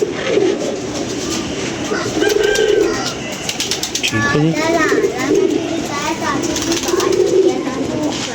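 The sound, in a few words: pigeon cooing while being handled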